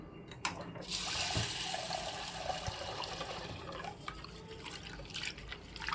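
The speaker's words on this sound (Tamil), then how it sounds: "இப்போது மறு பருப்பை வாஷ் பண்ணி எடுத்துக்கிறேன்" Water poured over ration-shop lentils (dal) being washed by hand in a home kitchen, a steady splashing wash with scattered drips and rinsing, fairly close and continuous without speech.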